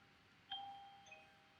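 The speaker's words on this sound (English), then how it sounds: "Sorry if you can hear the doorbell." Faint two-tone doorbell chime heard indoors in a home, a single ding-dong that rings out and lingers briefly against quiet room tone.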